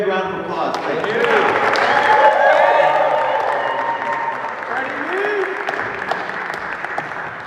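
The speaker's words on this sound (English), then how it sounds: "Give him a big round of applause." An audience at a recovery-themed festival talk breaks into a full round of applause mixed with cheers and a few whoops, swelling then easing, with a voice speaking over the tail end.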